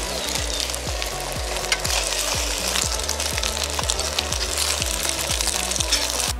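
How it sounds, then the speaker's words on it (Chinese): Bacon and eggs fry in a pan over a camp stove during a mountain campsite breakfast in Nantou, giving a constant crackling sizzle over a regular low knocking beat. "培根煎蛋。"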